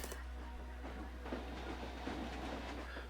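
A train runs on its rails in Planet Coaster 2, a steady low rumble with soft repeated clacks against a constant hum, moderately close.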